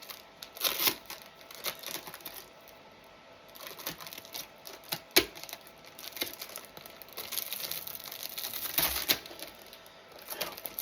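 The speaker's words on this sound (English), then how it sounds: "Now this is going to be the fun bit, unwrapping this, because this is nicely stuck." Stuck protective film being peeled off a new Nintendo Switch 2, faint close crinkling and crackling with sharp tearing ticks scattered throughout, quiet and without talk.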